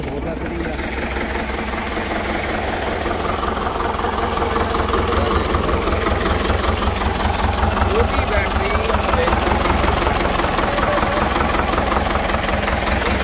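A 1954 Someca 650 Fiat tractor engine idles with a steady, close, knocking chug that holds evenly throughout, and voices are heard talking over it.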